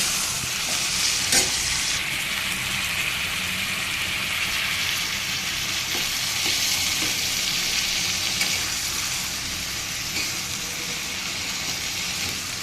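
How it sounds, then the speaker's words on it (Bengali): Broccoli and new potatoes being stirred and fried in a pan make a loud, continuous sizzle, with occasional scraping and knocks from the spoon throughout and no voices. "এটাকে নেড়ে চেড়ে একটু ভেজে নেব"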